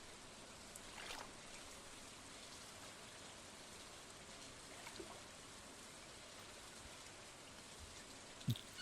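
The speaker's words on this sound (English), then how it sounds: "It's pouring the rain." Steady rain pouring in the farming video game Stardew Valley, a constant soft hiss of falling drops with faint scattered patters, quiet and continuous with no talking.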